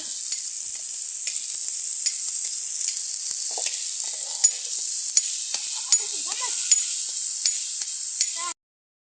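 Pumpkin bhaji frying steadily in a pan with a constant bright sizzle, broken by regular light scrapes and taps of a spatula as it is stirred, continuous and close for several seconds before cutting off.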